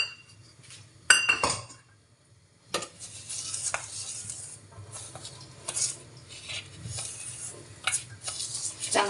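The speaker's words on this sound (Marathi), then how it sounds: "चांगलं मिक्स करायचं." A semolina and curd batter for rava appe is mixed in a bowl, giving repeated scraping and clinking of a spoon against the dish, close and fairly quiet, with a brief pause before stirring resumes.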